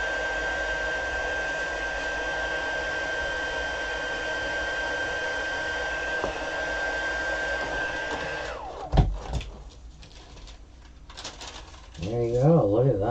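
A handheld heat tool blows hot air over embossing powder on embossed skins and enamel elements, giving a steady, loud, hairdryer-like whoosh with a thin whine for about eight seconds before cutting off, followed by light handling clatter and a faint voice.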